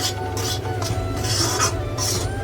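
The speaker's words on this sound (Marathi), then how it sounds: "रवा छान भाजून घ्यायचा मस्त खमंग" Semolina is roasted in ghee in a kadai while a spoon scrapes and stirs it, giving repeated close rasping strokes in a steady rhythm over a constant background hum.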